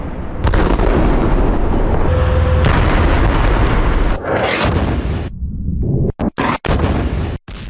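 Loud, sustained demolition blasts as Israeli forces blow up buildings in Gaza: a long roaring explosion followed by a second rumbling burst, then several sharp cracks and abrupt cutoffs toward the end.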